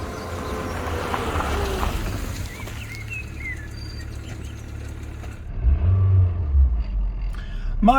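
A silver Rover car is driven slowly back into place: a low, steady engine rumble that swells louder near the end, with faint birdsong in the background.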